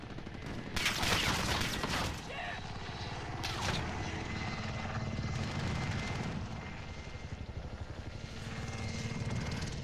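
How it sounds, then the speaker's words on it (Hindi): A helicopter in the video game Warzone Plunder churns overhead with a continuous rotor thrum, mixed with bursts of gunfire and occasional talk. "मेरे ऊपर हेलीकॉप्टर आ गया"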